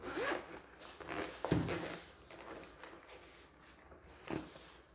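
A zipper on a carrying case for a Unit UT17B Pro true-RMS digital multimeter pulls open in several quick rasping strokes, close and fairly loud, with small handling rustles between the runs and no talk.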